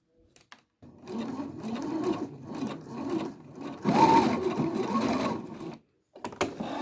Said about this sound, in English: And sew down the waistband.